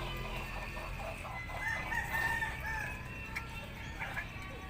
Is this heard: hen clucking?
yes